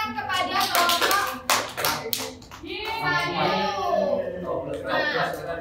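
Schoolchildren in a fifth-grade class clap for a group, a burst of mixed hand claps with children's voices and a teacher talking over and between them.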